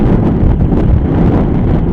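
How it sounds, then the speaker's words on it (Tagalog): Loud, strong, cold wind buffets the microphone at a high lookout in Dieppe, a continuous low roaring rumble with no voices. "Super lakas ng hangin, malamig."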